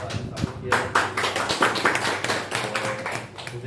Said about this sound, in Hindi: मैं चाहता हूँ उनका भी जोरदार तालियों से किया